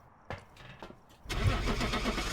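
A truck engine in a video game cranks briefly, then catches and settles into a steady, rumbling idle; a few short clicks and starter bursts come first before the engine fires up fully.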